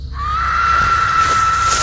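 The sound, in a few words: distant scream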